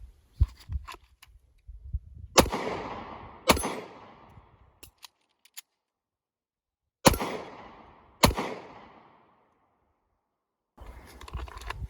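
Handgun shots fired at a target during self-defense practice: a pair of loud, sharp cracks, a pause for a reload, then two more shots, each followed by a brief outdoor echo, with faint handling clicks between.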